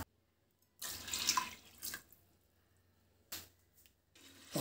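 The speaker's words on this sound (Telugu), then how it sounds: "కుక్ చేసుకునేదానికి ఒక 2 కప్పులు నీళ్ళు పోసుకోవాలి" Water poured into a pot for cooking mung beans with cumin and curry leaves, heard as two separate gushing pours, the first longer and fuller, with quiet gaps between them.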